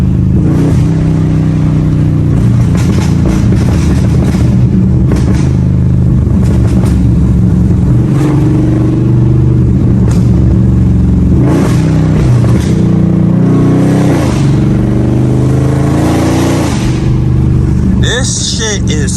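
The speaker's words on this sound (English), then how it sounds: "This shit is screaming, y'all. Like, just listen to the exhaust, man." A tuned Mopar SRT car with an aftermarket cam roars loud and close as it drives and corners, its exhaust revving up and down in repeated surges throughout.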